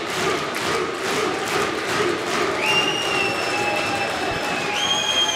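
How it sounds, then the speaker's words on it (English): Boxing crowd at Fenton Manor in Stoke performing the Icelandic thunderclap, a mass of rhythmic claps and shouts filling the hall, loud and continuous, with a whistle-like tone cutting through partway. "I think that's the first Icelandic thunderclap I've heard in Fenton Manor."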